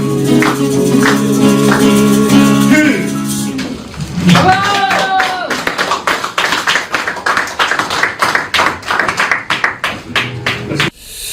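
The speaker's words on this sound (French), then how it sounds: "nous avons entendu ces applaudissements passionnés" Singing fades out and a radio studio audience breaks into applause, a dense stretch of clapping that builds and then stops abruptly.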